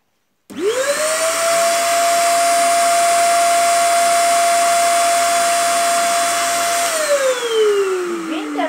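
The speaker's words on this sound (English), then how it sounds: "The wind turbine makes the rotor spin." A small electric motor spins the rotor of a model windmill wind turbine, giving a steady loud whirring hum that starts abruptly, holds evenly, then winds down in pitch near the end, with no talk.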